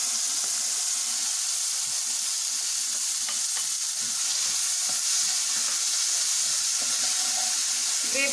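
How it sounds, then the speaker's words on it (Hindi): Already-cooked gravy poured into a hot pan of fried cumin, dried red chili and turmeric over a low flame, giving a constant loud sizzle and hiss with faint stirring scrapes. "फ्लेम को लो कर देंगे, ग्रेवी को डाल देंगे।"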